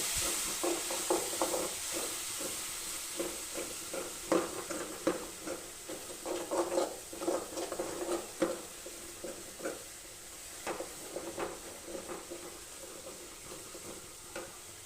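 A spicy besan curry mixture with chili powder is stirred in a hot pan, giving soft scraping strokes over a continuous gentle sizzle, fairly quiet and with no talk.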